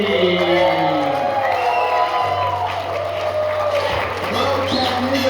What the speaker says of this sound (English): applause for your first comedian